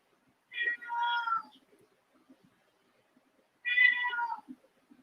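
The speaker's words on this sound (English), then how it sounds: "My cat is meowing." A domestic cat meows twice, close and fairly clear, with a quiet pause between the two drawn-out calls and near silence around them.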